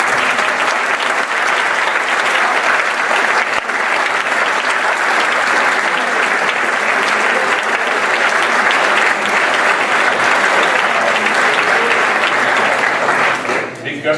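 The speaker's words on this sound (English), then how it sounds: "So a round of applause for all of our coaches" Audience applause for the coaches of a speech and debate team at a formal debate event, a loud, dense and sustained burst of clapping from a large crowd that holds steady for many seconds before tapering at the end.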